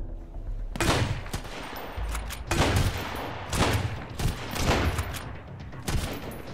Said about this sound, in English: Seriously, how many shots?